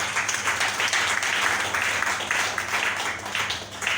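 A church congregation applauds the Lord during a French-language worship service, a steady dense wash of many hands clapping together for several seconds, fairly close and with no voice standing out.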